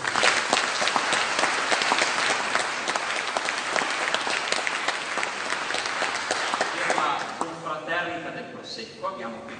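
A large concert audience applauds loudly and continuously, then the clapping thins out into scattered claps near the end.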